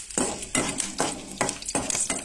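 Garlic and ginger roasting in a pan, a quiet sizzle broken by rhythmic scraping strokes of a spatula, about five regular stirs close by.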